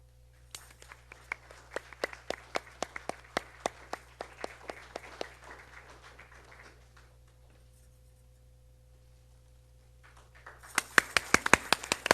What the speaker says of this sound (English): I would like to welcome Srimati Deepa Murthy on stage with a round of applause.